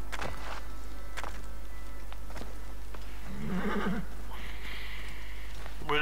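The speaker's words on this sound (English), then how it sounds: "We're going to jump on our horse and ride around to the north side of the pyramid." Horse riding in Assassin's Creed Origins near a pyramid: a horse neighs and snorts over steady in-game ambience, with a soft clip-clop of hooves and a second whinny near the end.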